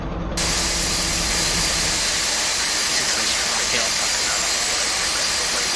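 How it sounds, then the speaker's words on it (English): Engine number two of a Felis 747-200 in X-Plane 12 spins up into a steady, loud jet whine and roar that holds level, with an airy hiss underneath. "Right, starting engine number 2."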